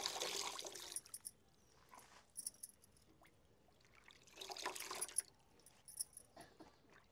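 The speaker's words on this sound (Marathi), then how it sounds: "आता पाणी नितरण्यासाठी आपण ह्या जाळीत काढून घेऊया" Water trickles and drains from freshly washed spinach leaves in a mesh strainer, coming in soft pouring bursts with quieter dribbling between them, fairly faint and with no voices.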